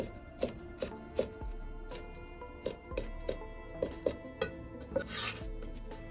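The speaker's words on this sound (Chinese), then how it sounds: "小米辣从中间片开后，再斜刀切成细丝。" A knife slices bird's eye chilies into thin strips on a cutting board, with a dozen light, uneven taps at close range in a quiet kitchen.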